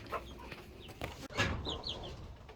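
Chickens in a farm coop cluck softly at a distance, with a few scattered calls and a slightly louder flurry near the middle. The sound is faint overall and no one speaks.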